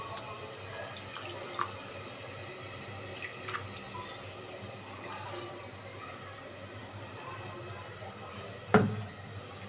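Small fish being rinsed by hand in water for a fish curry, with faint sloshing and scattered drips under a low background hum, and one sharper splash near the end.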